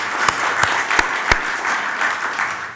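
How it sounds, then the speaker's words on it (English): A room of dinner guests at an annual society dinner gives a sustained round of applause, a dense wash of clapping with a few louder individual claps standing out near the front. "Can we have a round of applause for her?"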